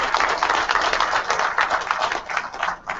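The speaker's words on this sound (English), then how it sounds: "let's give them a big round of applause" An audience at a conference applauds a presentation team, a dense, even round of many hands clapping at steady loudness from start to finish.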